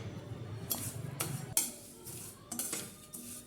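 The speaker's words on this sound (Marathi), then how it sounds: "तूप घ्यायचं आहे त्या तुपामध्ये तयार केलेले वळवट आपण इथे भाजून घेणार आहोत" Metal spoon scraping and clinking against a pan as vermicelli roasts in ghee, a few quiet stirring strokes spaced through the stretch with faint background hiss.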